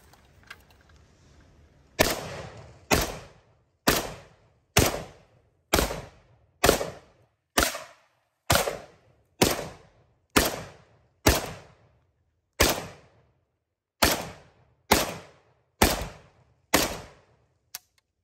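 Norinco MAK-90 Sporter 7.62x39 rifle, a 28-year-old AK-style gun, firing about fifteen sharp loud shots at a steady measured pace of roughly one per second outdoors, with short decaying echoes between them.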